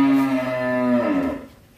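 A single loud, drawn-out moo from a BBB beef cow at a fattening cattle farm in Vietnam, close by, sliding down in pitch and fading at the end, with no voices.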